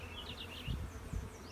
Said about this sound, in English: This builder has a few more bees in it, eh?